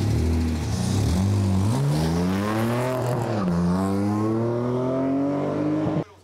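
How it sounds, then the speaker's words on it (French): Several race cars, including a compact BMW, drive the small Lohéac circuit, engines loud and close, revving and shifting through gears in a continuous rising and falling roar that cuts off sharply at the end. "les voitures qui sont en train de rouler aujourd'hui ici sur le circuit de Loéac"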